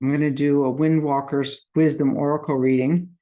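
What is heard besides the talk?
None of the usual background noises is heard.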